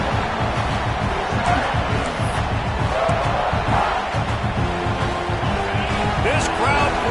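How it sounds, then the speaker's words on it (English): A stadium crowd at a Texas vs South Carolina football game roars in a continuous loud wash of cheering and noise, with an announcer talking over it. "This crowd bringing the energy and noise early."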